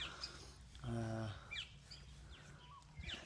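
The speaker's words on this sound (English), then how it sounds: "the birds are just so fucking noisy" Birds at an Australian campsite in Queensland give short chirps and calls, scattered and faint, over a quiet background, with a brief low harmonic call near the start.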